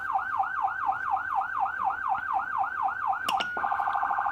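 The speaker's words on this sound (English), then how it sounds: "That's called your Yelp 249." A Whelen 295SSA1 electronic siren sounds its Yelp 249 tone, a loud, rapid rising-and-falling wail repeating steadily about four times a second, then briefly interrupted and switching to a harsher, steadier tone near the end.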